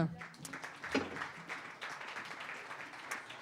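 Audience clapping for award winners on stage at a talent awards ceremony in Geneva, a moderate, continuous patter of many hands heard from within the hall, slightly distant and even.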